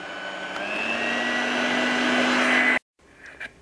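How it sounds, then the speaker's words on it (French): An electric mixer whips cream for a creamy chocolate cake, a steady loud motor whine that runs unbroken for almost three seconds, then cuts off abruptly, leaving faint clinks. "Je monte ma crème."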